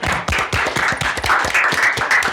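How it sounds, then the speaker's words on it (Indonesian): A small group claps at a FRDM gathering in an irregular, slightly uneven burst of close handclaps lasting a couple of seconds. "Sekali lagi tepuk tangan buat FRDM."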